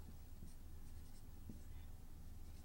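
A fraction is written out by hand in a maths lesson on cylinder, cube and cone volumes, with faint soft scratchy pen strokes over a low background hum.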